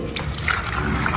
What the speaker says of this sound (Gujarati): તો પાણી એડ કરીશું